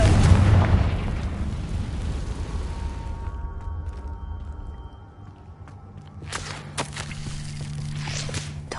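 A Confringo blasting spell goes off in Hogwarts Legacy, a loud booming explosion at the start with a heavy low rumble that slowly fades, followed by softer scattered crackles and impacts.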